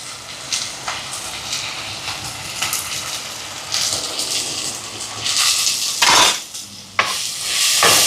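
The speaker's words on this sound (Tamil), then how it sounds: "இப்போ தக்காளி பழம் வதங்கட்டுக்கும் நல்லா கலந்து விடுவோம்" Tomatoes sauté in hot oil as they are stirred around a pan, an uneven sizzle punctuated by loud scraping sweeps and metallic knocks of the spoon.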